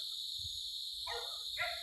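Two brief, faint dog barks sound far off near a cemetery, set against a steady high buzz of crickets and insects.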